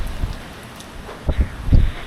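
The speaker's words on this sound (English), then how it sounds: "Now we're getting a nice rain." Rain falls on a farm in April as a steady soft patter, with a few louder dull knocks and drips near the end.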